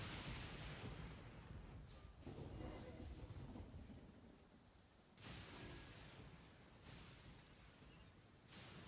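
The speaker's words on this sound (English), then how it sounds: "if it can help get rid of the lightning strikes, that would be nice" Lightning strikes and thunder in the video game Genshin Impact, with heavy rumbling crashes over steady rain-like noise and two sharper cracks partway through, playing alone with no talk.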